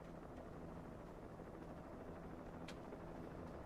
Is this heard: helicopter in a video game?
yes